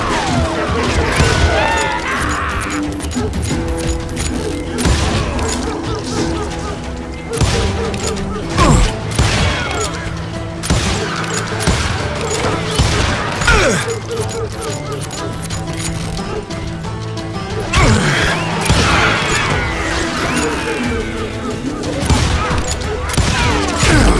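Gunfire and crashing in the Wild West shooter Call of Juarez: Gunslinger, with dense bursts of shots, impacts and clattering that run continuously under game music and voices.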